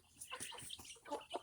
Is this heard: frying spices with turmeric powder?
no